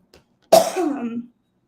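A single close, fairly loud cough, rough and brief, followed by a short throaty rasp, in otherwise quiet surroundings.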